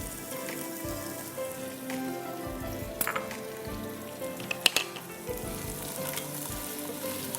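Eggplant sizzles steadily in hot oil, a continuous crackling hiss with occasional sharper pops and stirring clinks, no voices.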